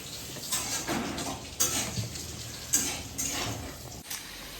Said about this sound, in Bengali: মা এখানে আলু ভাজছে